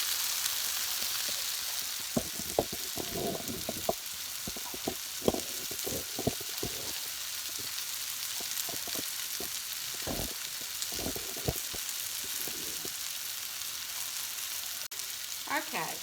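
Sliced zucchini and squash fry in a pan over medium heat, giving a steady, even sizzle throughout, broken by scattered light taps and scrapes of stirring.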